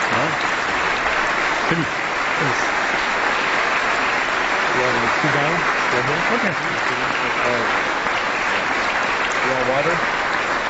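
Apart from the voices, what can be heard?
audience applause for the Dalai Lama at the California State Legislature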